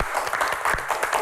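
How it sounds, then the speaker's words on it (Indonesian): Studio audience at a Q&A show claps in a short, dense burst of applause, fairly loud and steady throughout. "Tepuk tangan, luar biasa."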